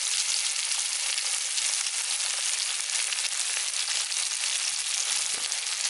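Sliced onions fry in hot oil in a pan for a Kerala-style white yam curry, a loud, steady, close sizzle with no talking.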